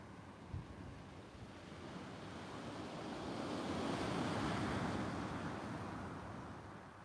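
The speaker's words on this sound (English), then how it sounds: "The waves sound good, do they?" Sea waves break on a steep beach at Cley Next The Sea at sunset, a soft continuous wash that swells to a louder surge midway and then eases, heard from a little distance.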